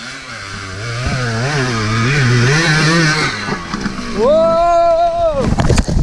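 A Kawasaki KX450F dirt bike revs on a hill climb attempt, its engine note rising and falling in repeated throttle blips, then surging to a sustained high-pitched scream before a final sputter, loud and close.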